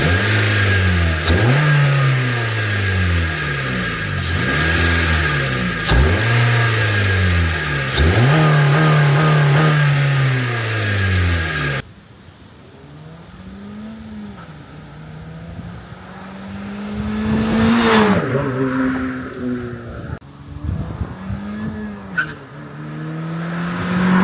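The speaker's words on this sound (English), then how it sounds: "Let me first start by getting you guys some sound clips of the car at a standstill and flying by with the stock" Honda Civic with its stock airbox: a mid-pitched engine revs up and down repeatedly in loud rhythmic bursts while standing still, then the car pulls away and passes nearby, rising in pitch and fading.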